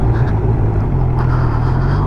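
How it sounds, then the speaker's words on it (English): A 2022 Honda CB1000R motorcycle on the move, its quick shifter snapping through a gear change: a loud, steady engine rumble with wind roar that dips only briefly mid-ride. "Always love it when a quick shifter works"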